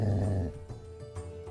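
A dog growls in the point-and-click game Kelvin and the Infamous Machine, a short low rumbling snarl at the start that fades into quieter background tones.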